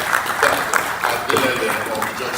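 Audience applause for a speaker at a workplace welfare and productivity event, a short burst of clapping with some scattered bright claps over a steady crowd wash.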